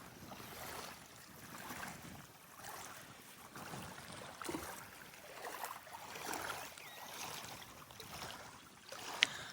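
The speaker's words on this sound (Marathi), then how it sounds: "हे पाण्याचा साऊंड तुम्ही ऐकू शकता." A swollen village river flows during a flood, a continuous broad rushing wash of water rising and falling in gentle surges, fairly faint and steady with no voices.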